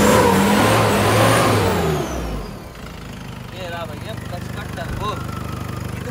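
A modified turbocharged Suzuki engine revs during an off-road lag test, loud and close with a harsh roar that settles into a steady engine drone, and someone talks over it.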